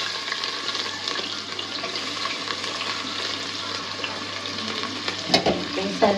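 Whole spices such as bay leaves and cardamom sizzling steadily in hot oil in a pan, a continuous close crackle with a few sharper stirring clatters near the end.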